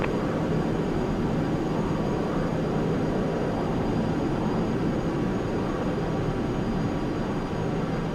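Jet airliner rolling down the runway for takeoff in Flight Simulator X, a steady, loud broadband engine roar and rumble holding constant throughout with no voices.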